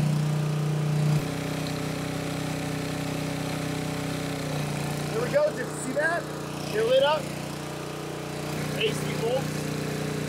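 A small engine-driven alternator generator runs steadily, charging a 48V battery bank, a constant mid-pitched engine drone throughout with people talking over it.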